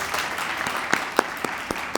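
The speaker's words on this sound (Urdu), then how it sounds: "تو میں سمجھتا ہوں ان کے لیے بھی خاص تالیاں ہمیں بجانی چاہیے" An audience at a tribute event in Pakistan claps in scattered, uneven applause. Individual hand claps stand out sharply over a steady background patter, moderately loud, with no speech on top.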